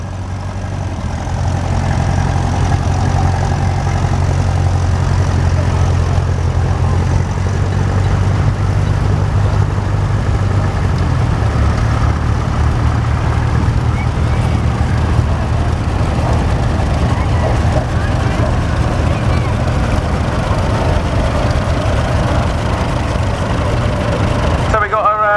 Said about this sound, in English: Another crawler. This one's an Alice Chalmers.